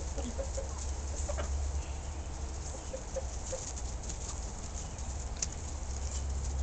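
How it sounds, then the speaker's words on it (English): Chickens cluck softly and sporadically over a steady low background hum, with no one speaking. "There's the chickens."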